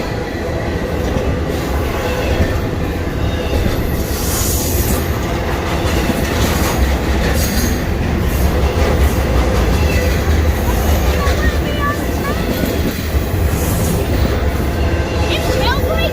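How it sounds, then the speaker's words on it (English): A moving train passes close by at a railroad museum, a loud continuous rumble with wheel clatter and occasional metallic squeals lasting throughout. "Never been this close to a moving train before?"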